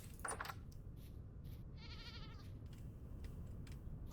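A Generation 1 goat in Vintage Story lets out a single short quavering bleat, near and clear, over a low steady ambient rumble with a few faint clicks around it.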